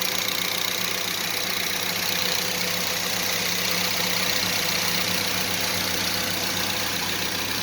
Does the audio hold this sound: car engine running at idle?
yes